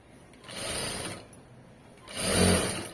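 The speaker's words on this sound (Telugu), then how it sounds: "నీట్గా కుట్టుకుంటూ వెళ్ళిపోవాలి." A sewing machine stitches the side seam of a garment in two short bursts, each a rising then fading whir with a quiet pause between, close and moderately loud.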